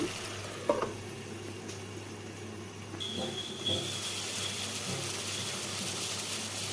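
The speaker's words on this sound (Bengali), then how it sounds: "ধুন্দুলগুলো ভালোভাবে কষিয়ে নেব" Small pieces of ridge gourd (dhundal) sauté in a pan with minimal spices, giving a steady close sizzle broken by stirring scrapes and a couple of sharp utensil knocks.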